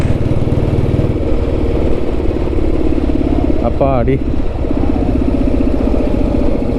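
A vintage Royal Enfield Bullet running low on petrol, its engine sputtering and thumping unevenly at close range as it starts to choke, while someone speaks over it briefly.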